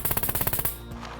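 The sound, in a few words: gunfire from a gun in the video game Scum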